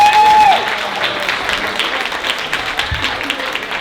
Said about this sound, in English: Please make a lot of noise for DeAngelo